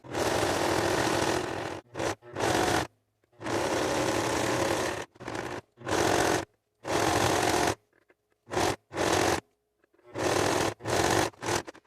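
A sewing machine runs a triple zigzag stitch on cotton fabric in loud, close bursts of rapid whirring, stopping and starting repeatedly with short silent gaps between runs.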